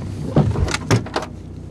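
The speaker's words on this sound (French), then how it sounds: "C'est rien, c'est la voiture de fonction." A company car, with a door and its electric power windows operating nearby: a few short bursts of motor whir and thumps, fairly close and moderately loud, with no talk.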